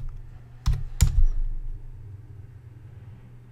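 Two sharp key clacks from a computer keyboard, close and distinct, while a database name is entered, followed by a faint low hum.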